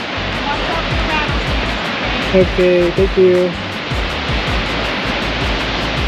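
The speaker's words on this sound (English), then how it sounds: "Just watch the waterfalls over here." Palouse Falls roaring steadily as a loud, broadband rush of falling water, constant throughout, with a brief spoken exchange rising over it midway.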